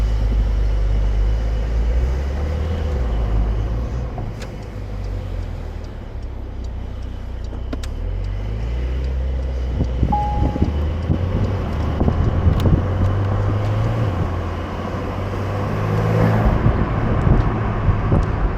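A 992-generation Porsche 911 Carrera 4S Cabriolet pulls away and drives, heard from inside as a low engine drone that rises and shifts over the road and wind noise, with occasional small ticks and clicks in the cabin.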